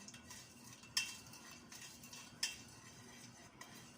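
Quiet spoon stirring of coconut pudding (tao huay) mixture in a pot cooling in cold water, a soft continuous swish broken by two sharp metallic clinks against the pot, close, no talk.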